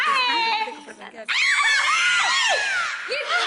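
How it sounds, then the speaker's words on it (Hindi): A woman lets out a long, shrill, wavering scream of joy, close and loud, stretching over a couple of seconds after a brief higher cry and some excited vocalizing at the start. "खुशी से चीख पड़ी मैं"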